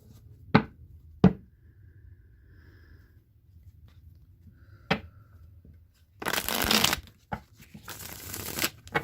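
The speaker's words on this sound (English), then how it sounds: "I'm going to shuffle the Deviant Moon deck now for a few cards for clarity on that." Tarot cards from a Deviant Moon deck are shuffled up close, with a few sharp taps early on followed by bursts of riffling and papery rustling toward the end.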